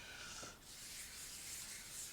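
Dice are hand sanded in a wet process, giving a soft, continuous rubbing and scraping hiss, steady and close, with no voices.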